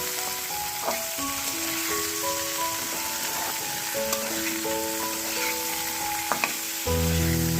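Food fries lightly in a pan with a constant soft sizzle and a few sharp stirring clicks, while faint melodic music runs underneath.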